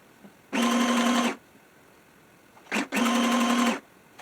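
A home sewing machine running fabric into ruffles whirs in two steady bursts, each lasting under a second, separated by a short pause and a brief mechanical clunk.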